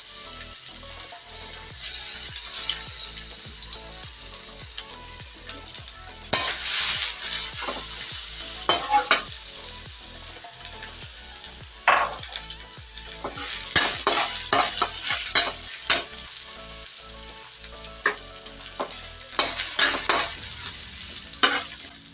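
Garlic fries in hot oil in a kawali, sizzling steadily while a utensil repeatedly scrapes and stirs the pan. The clatter is close and bursts in irregular strokes, with no talk over it.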